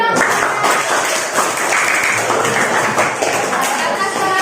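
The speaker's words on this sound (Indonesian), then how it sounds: "Oke, tepuk tangan dulu." A classroom of students claps together, a busy dense patter of hands running throughout, with voices mixed in beneath the clapping.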